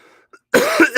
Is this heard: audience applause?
no